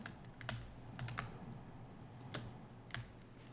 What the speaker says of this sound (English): it is difficult with mouse and keyboard